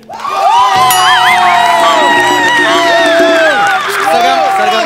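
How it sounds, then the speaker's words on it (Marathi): A studio audience at a Marathi comedy show cheers loudly for a singer, with sustained crowd noise and rising whoops and shouts layered throughout. "एकदा जोरदार टाळ्या"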